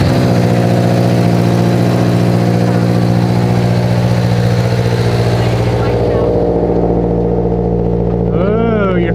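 A Subaru BRZ engine runs at a steady idle after being started with the clutch in, a loud, close, continuous mechanical drone under ongoing conversation.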